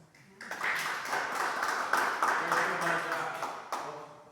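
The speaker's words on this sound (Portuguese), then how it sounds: "Vamos agradecer ao Senhor com a salva de palmas." A church congregation gives a round of applause, a continuous close patter of hands that swells and holds while a voice speaks over it.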